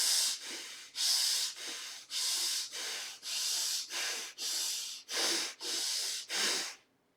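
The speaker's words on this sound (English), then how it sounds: "let us start breathing into the belly. When you inhale, the belly goes out. When you exhale, the belly goes in." Slow, audible belly breathing during a breathing exercise: about ten long, even breaths, each a soft airy hiss with brief pauses between, close and steady, with no talking.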